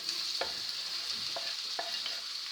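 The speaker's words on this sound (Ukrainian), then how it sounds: "Порізану цибулю відправляю на розігріту сковороду з олією і підсмажую до прозорості" Chopped onion sizzles steadily in hot oil in a frying pan, with occasional soft scrapes of stirring breaking through the constant crackle.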